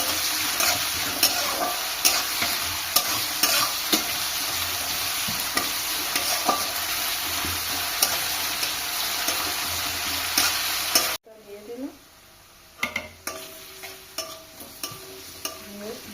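Pieces of onion for Kolkata-style ghugni stirred and frying in a pan, a steady loud sizzle with spatula scrapes for about eleven seconds, then the sizzle drops away leaving a few scattered clinks and stirs.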